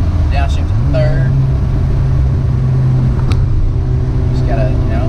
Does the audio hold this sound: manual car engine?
yes